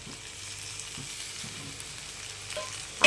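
Grated onion, ginger, garlic and tomato frying in a pan, a steady soft sizzle with faint stirring scrapes and a small clatter at the end, no voices.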